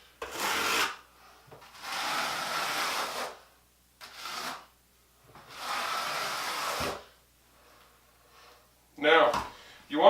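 A notched trowel combs mortar in one direction across a shower pan base, making broad scraping rasps in four separate strokes with pauses between them, fairly close and clear, with a brief bit of talk near the end.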